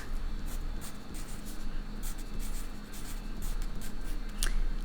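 Pencil or pen writing down a definition for a science lesson, a steady scratchy scribble running through the whole stretch with brief pauses, close and fairly quiet, with no talking.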